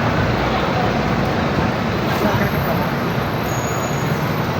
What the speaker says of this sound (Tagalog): Dahil napaka-traffic, lakad kami mula bayan hanggang SM.